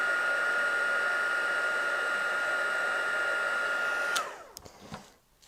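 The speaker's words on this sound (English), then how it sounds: "I'll try and move the heat gun out of the way." A heat gun blows a steady whirring hiss for about four seconds while melting embossing powder on a stamped scene, then cuts off abruptly, leaving brief faint handling clicks.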